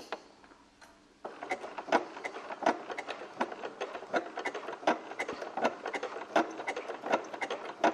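A domestic sewing machine stitches a finished edge such as a neckline or cuff, starting after a quiet moment and running in quick, even bursts of rhythmic mechanical ticking, close and moderately loud, with no talk.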